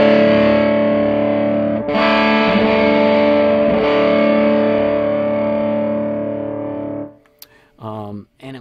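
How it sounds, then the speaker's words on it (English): A loud, sustained electric guitar chord through a Black Arts Pharoah Fuzz pedal rings out, is restruck a couple of times, then fades, followed by a brief voice at the end. "it's a really good pedal for people who like to tweak their fuzz tones"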